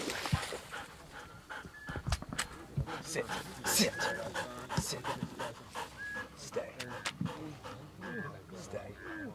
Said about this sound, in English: Dog on the right.